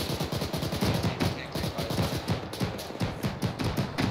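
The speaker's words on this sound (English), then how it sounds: "Heavy machine gun" A heavy machine gun turret in the Arma 3 military video game fires continuous steady bursts, loud and close throughout.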